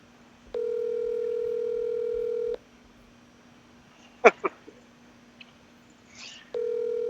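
A telephone ringback tone sounds in long, steady, evenly spaced bursts during an unanswered cold call, with a few short clicks between rings.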